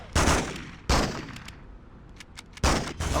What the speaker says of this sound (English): Some thugs are shooting at the police!